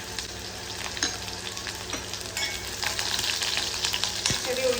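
Small onions frying in hot oil in an iron pan, with mustard seeds and fenugreek already in, sizzling steadily with crackling pops and an occasional stir, close and fairly loud throughout.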